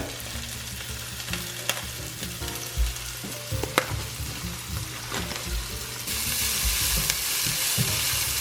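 Jalapeño, cayenne pepper and beef stew ingredients sauté in a hot pan, giving a steady close sizzle broken by scraping stirs, with the frying growing louder and brighter toward the end.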